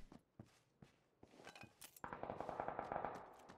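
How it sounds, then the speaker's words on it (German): Gunfire in the video game PUBG: a few separate single shots and thuds, then a rapid sustained burst of automatic fire, fairly close and loud, with no talking. "Waren schon die ersten Schüsse?"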